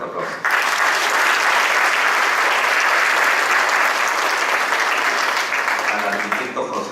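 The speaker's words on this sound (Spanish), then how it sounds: "le pido que le brindemos un fuerte aplauso" A large audience at an awards ceremony honouring housing research specialists breaks into loud, sustained applause. The clapping starts abruptly and holds steady for about six seconds.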